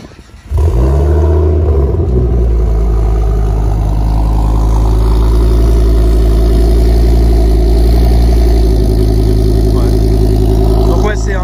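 A car engine cranks briefly and catches, then settles into a loud, steady, raspy idle with a deep exhaust rumble, heard up close from outside the car with no break.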